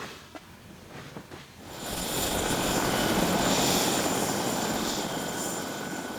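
A helicopter engine spools up after a quiet, faint start, then runs as a loud, steady whine and rotor roar that holds for several seconds.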